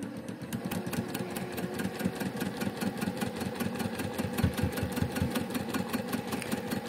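Sewing machine stitching a quarter inch seam on a pinwheel quilt block, a steady rapid mechanical clatter with a motor hum, running evenly and close by.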